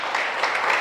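A church congregation breaks into applause, a brief wash of dense, even clapping.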